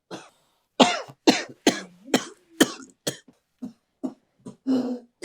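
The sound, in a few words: man coughing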